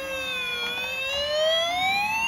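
A toy fire engine and ambulance siren wails loud and close in one continuous rising electronic tone, alone without talking.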